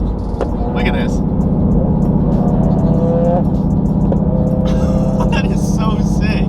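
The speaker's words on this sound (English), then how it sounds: "decides to shoot flames out of the Subi" A Subaru drives with a loud, steady engine and exhaust drone throughout, with sharp crackles and pops and a few brief high squeals breaking through, while people talk over it.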